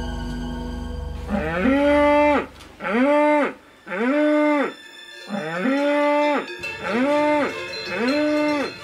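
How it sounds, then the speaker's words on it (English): A cow gives a series of loud, close, drawn-out moos, five or six long bellows in succession with short gaps between them, a low rumble underneath the first moments. "lets out a series of moos to alert the herd"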